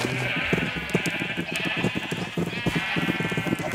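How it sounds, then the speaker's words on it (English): A flock of sheep bleating in a city-building video game, overlapping baas repeating rapidly and loudly against a constant droning background hum, with no speech. "Let's get run over by a bunch of sheep while we're at it."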